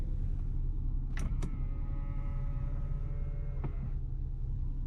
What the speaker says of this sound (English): Another feature this car has is electric mirrors,